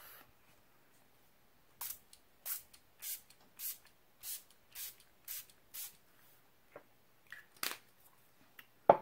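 A series of short, sharp aerosol spray bursts, about ten quick hisses in a steady rhythm, close and clear against near silence.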